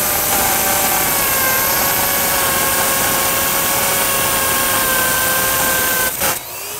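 A hammer drill bit cuts into a paved concrete surface while a retaining wall is built outdoors, a continuous loud grinding drone with a steady whine, ending in a brief clatter.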